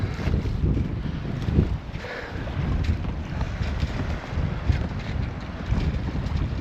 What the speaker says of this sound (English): if this wind drops off it shouldn't be too bad